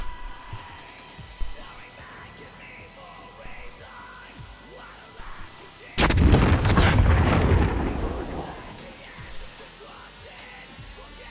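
A sudden burst of loud, booming gunfire and explosions erupts partway through, following a stretch of quieter game ambience with faint background noise.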